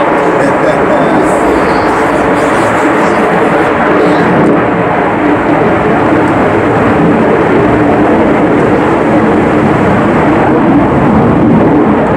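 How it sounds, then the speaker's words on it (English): A loud, sustained roar of an aircraft passing overhead, a broad rumbling drone that stays strong throughout. "when you hear them planes fly over"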